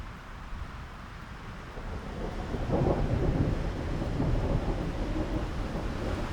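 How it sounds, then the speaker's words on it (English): Thunderstorm rolling over the southern African coast, with a low, sustained rumble of thunder swelling midway and lingering, backed by steady wind and rain noise with no voices. "Facing the storm at the end of the world"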